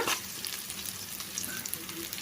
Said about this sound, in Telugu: చూడండి ఇలా ఫ్రై చేసుకోవాలన్నమాట ఆయిల్ అంతా ఈ ఒట్టి చేపలకు పట్టేలాగా ఒక్క రెండు నిమిషాలు ఫ్రై చేసుకుంటే సరిపోతుంది